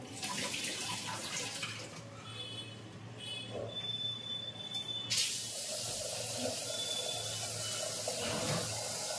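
Steady running tap water at moderate distance while rice is washed in a kitchen, a continuous soft splashing hiss with no talking.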